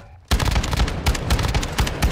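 A shotgun firing in Warzone 2 on Ashika Island: after a brief quiet moment, loud, close shots and heavy impacts come in quick, irregular succession and keep going.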